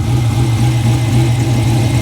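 A 1969 Pontiac GTO V8 idles steadily while warming up, a loud, close, even low rumble with no change in pitch and no talk.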